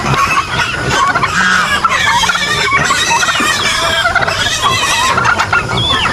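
Backyard chickens eating corn in a rural province: a dense, loud mix of clucking and squawking from many birds at once, continuous throughout with busy pecking noise underneath.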